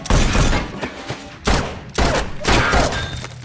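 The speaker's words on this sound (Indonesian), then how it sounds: "Dan sesi baku tembak pun berlangsung" Rapid gunfire rings out during a shootout between an inspector and a gunman, with dense, loud bursts of shots crowding together and brief gaps between volleys.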